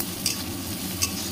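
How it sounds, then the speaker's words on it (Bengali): Sliced onions with a pinch of salt frying in oil in a kadai, a close steady sizzle with the scrape of a spatula stirring in short sweeps. "তো আমি তেলের মধ্যে পেঁয়াজগুলো দিয়ে দিয়েছি। এবার পেঁয়াজগুলো একটু ভেজে নেব"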